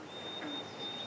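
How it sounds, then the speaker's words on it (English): A white-throated sparrow whistles from a bank near a beaver-altered stream, one long pure tone held steady and fairly faint over a continuous wash of outdoor ambience. "There's a white-throated sparrow that I keep hearing up on the bank."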